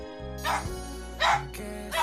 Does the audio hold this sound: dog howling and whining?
yes